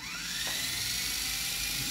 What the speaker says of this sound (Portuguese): Se for para dar rotação no helicóptero.